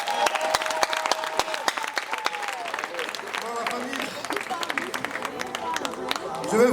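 Audience at a live stage comedy show applauding together, a steady wash of clapping mixed with crowd babble and occasional cheers, with a voice speaking briefly at the start.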